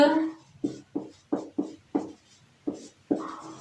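Short, regular strokes scrape across a board as notes are written during a chemistry lesson, about eight distinct marks in a steady rhythm, close and clear, with a voice speaking over them.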